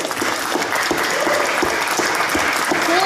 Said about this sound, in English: Can we give another round of applause for Bliss?